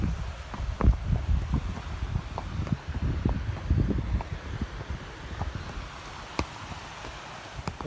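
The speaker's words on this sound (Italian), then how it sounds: "C'è il vento, tipo non è dei migliori" Gusty wind buffets the microphone on a high mountain route near Monte Mongioia, a steady rumbling roar with irregular low thumps and surges, no voices.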